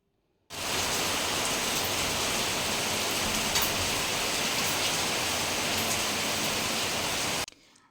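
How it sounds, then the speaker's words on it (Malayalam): Heavy rain pours down in a steady, dense roar that starts abruptly, holds at an even loud level for about seven seconds, then cuts off. "നല്ല മഴ കേട്ടോ അടിപൊളി മഴയായിരുന്നു"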